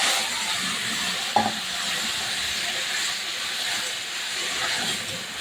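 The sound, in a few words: curry with fish and taro sizzling in the pan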